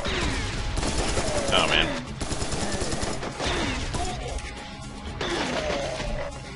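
Dense gunfire in the first-person shooter Serious Sam 3 BFE, rapid continuous bursts and blasts against hordes of enemies, loud and crowded, with a man's brief exclamation over it.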